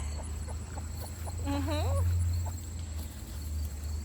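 Backyard chickens cluck softly in the shade near purple cabbage, a few short calls and a brief warbling rise standing out over a steady low hum of the farm setting.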